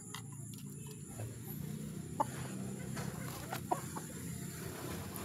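Hens, including former chicks of the flock, cluck softly while being fed in a backyard poultry pen, a steady low murmur of fowl with a couple of sharper isolated clucks standing out nearby.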